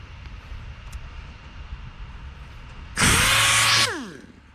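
A power sander working a dent in the hood of an OBS Chevrolet Silverado with aggressive sandpaper: a loud, close whine bursts in for about a second, then spins down, after quiet background.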